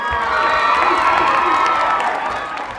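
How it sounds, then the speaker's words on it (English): A large crowd of schoolchildren cheers and shouts rapturously, a loud, dense roar of high voices that swells and holds, then starts to fade toward the end. "there'd be rapturous cheering"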